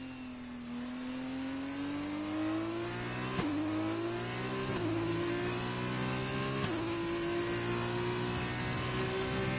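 Formula 1 race car engines in the F1 2020 video game rev in a steady high whine, rising gradually with brief gear-shift dips, heard alone without talk.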